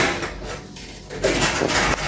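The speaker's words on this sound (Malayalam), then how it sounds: "പാത്രം കഴുകി വെക്കുന്നുണ്ട്." Pots and dishes being washed in a home kitchen, soft clinks and a light metallic knock heard close under running-water hiss.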